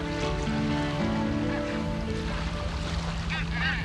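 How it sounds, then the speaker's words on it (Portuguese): Hungry seagulls call over the water along the southern São Paulo coast, scattered harsh cries heard against a dense roar of boat engine and waves. "Gaivotas famintas?"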